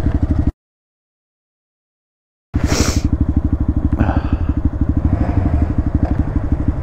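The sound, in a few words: motorcycle during wheelie practice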